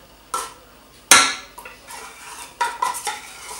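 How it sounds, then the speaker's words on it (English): Brown sugar, butter and condensed milk for toffee being stirred in a pot, giving scraping, clanking strokes of a utensil against metal in a few bursts, one sharp loud knock among them, with no talk. "you must stir this all the way through until it thickens up to the right consistency"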